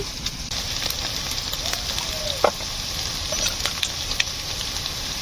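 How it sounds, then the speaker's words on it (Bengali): Garlic, onion and ginger frying in a pan for a duck curry give a steady, close, crackling sizzle, with a few light clinks and one sharp tap partway through. "রসুন আর পেঁয়াজ ভাজা হয়ে গিয়েছে লাল করে ফেলছি"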